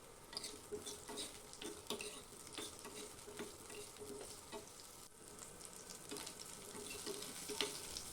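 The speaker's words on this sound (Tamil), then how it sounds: "சின்ன வெங்காயம் உரித்தது 1 கைப்பிடி அளவு, ஒரு 4 பல்லு பூண்டு, அதோட சின்னதாக ஒரு புளியங்கொட்டை சைஸ் அளவு புளியை சேர்த்து நல்லா வதக்கிக்கலாம்." Peeled shallots, a few garlic cloves and a small lump of tamarind sautéing in hot oil, a steady soft sizzle with repeated scraping and stirring clicks of a spoon against the pan throughout.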